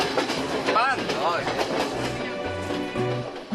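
Train rolling along the tracks in Sri Lanka, a steady rumble and rattle of wagons filling the whole stretch, with voices talking over it.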